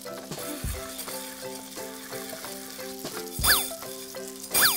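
Chopped vegetables in a frying pan during toy cooking play, a soft steady sizzle with scattered clinks and plastic taps, quiet and close.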